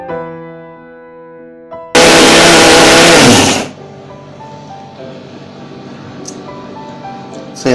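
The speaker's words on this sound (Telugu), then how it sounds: "సో ఇలా మిక్సీ చేసేసుకున్నాం." Kitchen mixer grinder blends ridge gourd peel chutney with green chillies, tomatoes, tamarind and garlic in a loud, close burst of nearly two seconds, set between quieter stretches of steady tonal background hum.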